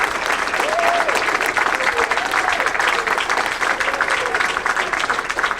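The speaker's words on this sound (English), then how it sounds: "Give them one more round of applause." A conference audience gives sustained, loud applause to panel guests Craig Keener, Mike Licona, Bart Ehrman and Rob Bowman, a thick continuous roar of clapping with faint voices or cheers mixed in.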